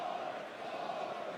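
A darts arena crowd of over 3,000 spectators at a professional tournament gives off a steady, dense murmur of cheering and chatter, continuous and fairly distant for a brief moment.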